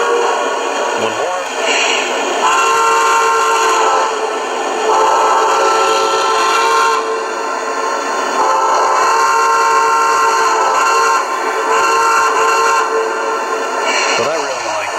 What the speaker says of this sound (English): The big boy whistle.